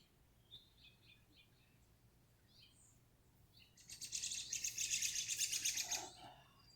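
Birds in a backyard garden in June, a few faint scattered chirps early on, then a louder, rapid trilling burst of song close by for about two seconds before fading.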